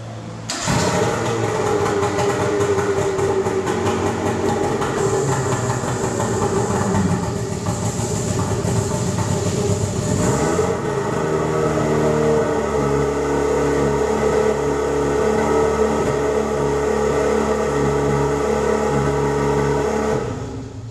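A Tohatsu portable fire pump engine on an Iveco Daily fire truck runs loud and steady, a dense mechanical drone with a shift in tone about halfway through, with no talk.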